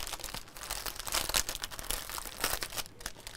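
A large printed fabric panel of Van Gogh paintings is handled and shuffled at a live craft session, giving a continuous close crinkling and rustling that rises and falls without any talk.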